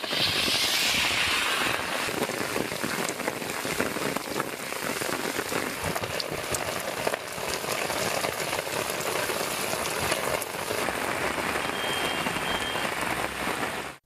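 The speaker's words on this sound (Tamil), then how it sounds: "2வது நாளாக மழை பெய்தது" Steady rain pours down during the northeast monsoon in Tamil Nadu, a dense continuous hiss of drops hitting surfaces, even and moderately loud with no voices.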